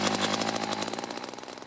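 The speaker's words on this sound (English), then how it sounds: "I drilled a hole through 2 feet of ice while Doug Tabor fished nearby." Ice auger drilling a hole through two feet of lake ice, a close, loud motor whine with a rapid pulsing chatter that shifts pitch as the blade bites through.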